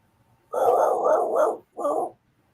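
A puppy barks and growls close by in two bursts, a long rumbling run of about a second followed by a shorter one, with quiet on either side.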